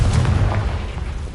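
A Confringo explosion spell in Hogwarts Legacy lands as a loud, deep boom with a rumbling low-end tail that fades over about a second.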